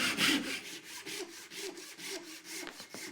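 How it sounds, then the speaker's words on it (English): Repeated hand-saw strokes cutting through a taped bundle of wooden dowels, a steady rasping back-and-forth rhythm of about seven strokes, close and fairly loud, with no talk. "tape the dowels into a bundle, then measure, mark, and cut them all at once."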